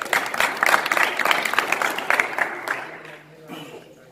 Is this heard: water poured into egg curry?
no